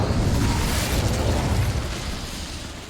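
A fiery Incendio spell blast in the Hogwarts Legacy video game roars as a dense, continuous rumbling burst that holds steady and then slowly thins out over a few seconds.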